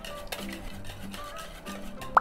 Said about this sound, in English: In a mixing bowl, beat 2 whole eggs.